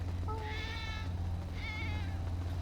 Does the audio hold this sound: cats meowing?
yes